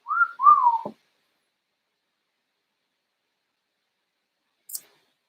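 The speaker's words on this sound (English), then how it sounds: "Can I whistle? I can whistle." A person whistles two short rising notes close by, followed by long silence and one faint high click near the end.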